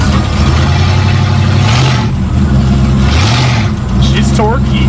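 A 1937 Ford pickup engine pulling hard while driving, a loud low rumble that rises in pitch as it accelerates through gears, with people talking over it inside the cab.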